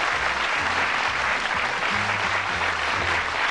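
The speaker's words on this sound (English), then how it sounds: "warm round of applause" Sustained, dense applause from a television game show studio audience on the darts quiz Bullseye, a steady wash of clapping that carries evenly through the whole stretch with no voices over it.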